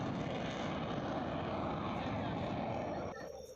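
Indian Air Force fighter jets thunder over the Lucknow–Agra Expressway airstrip during a touchdown exercise, a continuous loud, dense roar that eases off slightly at the end.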